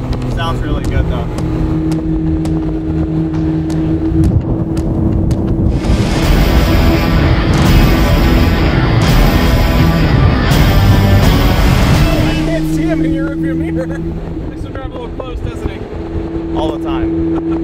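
Engine of a Ferrari in a garage, a steady low idle that swells into a loud, raspy rev for several seconds before settling back to the idle, with people talking.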